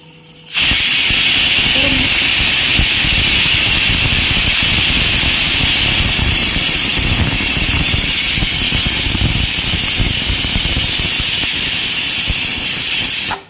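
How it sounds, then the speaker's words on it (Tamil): A pressure cooker of chicken curry on the stove releases a loud, steady rush of hissing steam that runs unbroken for more than ten seconds, close up and alone. "இப்போ ஒரு 3 விசில் வந்துருச்சு."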